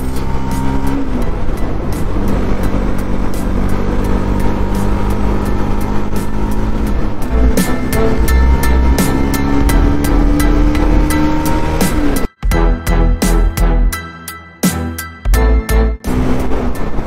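Motorcycles, including a Bajaj NS and a Hero XPulse, race along a mountain road toward Devprayag, with loud sustained engine drone and wind rumble throughout, then choppy gusts and revs toward the end.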